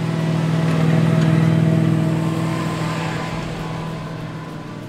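A Suzuki Jimny and a Land Rover crawl a rough four-wheel-drive track leaving a campsite in Namaqua, a steady mid-pitched engine drone holding close and loud, easing slightly toward the end.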